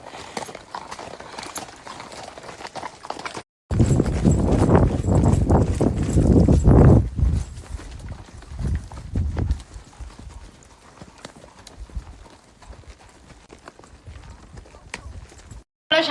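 A horse gallops with rapid rhythmic hoofbeats, loud and close in a burst mid-clip, then fading to lighter, scattered clip-clops, with no talking.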